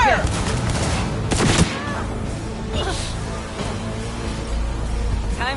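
Video game shootout with rapid bursts of gunfire crackling over a dense, loud background, and sharp shots standing out near the start and middle.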